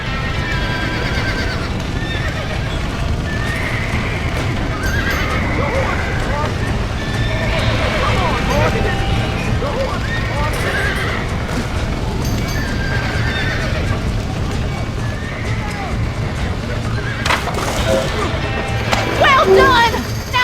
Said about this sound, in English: Now let's save the horses!